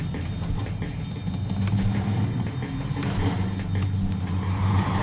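Trucks in the video game ClusterTruck produce a continuous engine and road rumble with wind-like rush and occasional clanks and knocks, steady and fairly loud, with no speech.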